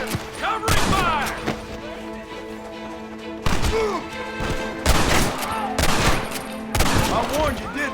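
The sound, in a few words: gunfire in a shootout, from video game Red Dead Redemption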